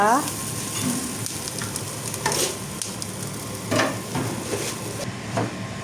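Onions sizzle steadily in butter in a hot pan, a constant crackling hiss with occasional louder spits and stirring scrapes.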